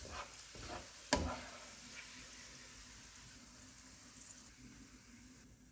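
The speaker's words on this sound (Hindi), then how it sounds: "बादाम डालेंगे और इनको भी 1 से 2 मिनट तक फ्राई करेंगे।" Almonds frying on low to medium heat in a pan for pulao, a soft steady sizzle with one sharp clatter early on, then a quieter continuous hiss, no voices.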